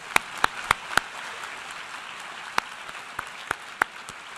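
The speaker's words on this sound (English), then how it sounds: "Let's give him a round of applause." A UN International Day of Peace audience gives scattered, sparse handclaps for Secretary General Ban Ki-moon. A handful of sharp claps stand out over a faint background.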